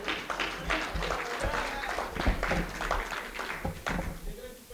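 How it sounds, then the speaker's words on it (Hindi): Audience applause at a Hindi kavi sammelan poetry recital, a broad steady patter of clapping from a crowd lasting several seconds, fairly loud and continuous with some voices mixed in. "तालियां उठाओ साहब, मजा लाना चाहिए।"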